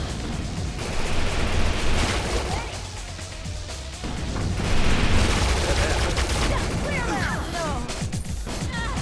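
Gunfire in the Defiance video game, dense bursts of shots and crashing impacts layered over game noise throughout, with a voice speaking in places.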